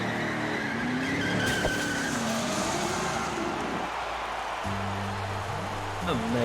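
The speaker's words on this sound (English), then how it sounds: "Oh yes, the car." A car in a WWE 2K14 wrestling entrance revs and skids with squealing tires amid crowd and arena noise, while a commentator talks over it.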